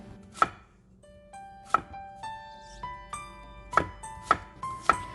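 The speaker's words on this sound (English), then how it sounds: "Cut the 2 potatoes into 1/2-inch pieces." A knife chops potatoes into half-inch pieces on a cutting board, sharp separate thuds in an uneven rhythm, about seven strokes, close and clear with no talking.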